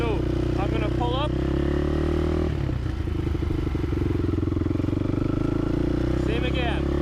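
A race quad ATV engine runs while driving through mud, a steady, close, buzzing drone with a gear change partway through, while someone talks over it.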